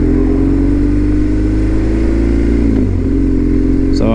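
A BMW R1200 GS motorcycle on the road, its steady engine drone loud and constant with heavy low rumble and wind, a slight shift in pitch near the end as the rider changes speed.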